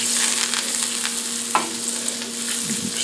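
Butter melting in a hot pan returned to the heat for a brown butter glaze, giving a steady, close sizzle with a brief clink near the middle, no voices.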